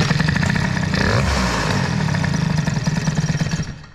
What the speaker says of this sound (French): quand je mets un coup de gaz, il y a peut-être mon aiguille qui est un peu riche